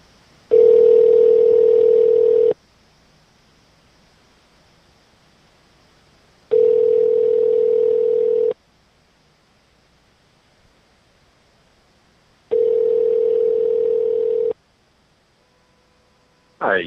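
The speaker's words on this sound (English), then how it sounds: "At least it's ringing this time." Ringback tone of an outgoing telephone call: three identical steady electronic tone bursts, each about two seconds long, separated by four-second silences, clear and close.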